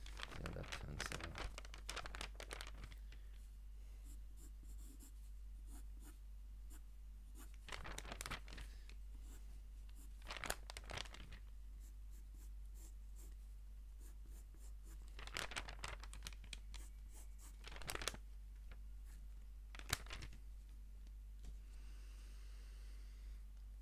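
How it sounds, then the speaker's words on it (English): A pen scratches across paper during traditional 2D animation cleanup drawing, coming in repeated bursts of close, dry scraping strokes separated by quieter pauses over a steady low hum. "the pen scratching the paper"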